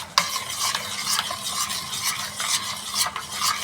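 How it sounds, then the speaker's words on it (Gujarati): A spoon stirs dates tamarind chutney with sugar, jaggery and chaat masala in a pot, giving a steady scraping and sloshing with faint sizzle and soft clinks, close and continuous, with no voices. "ચાટ મસાલો બધું આપણે સરખી રીતે હલાવી"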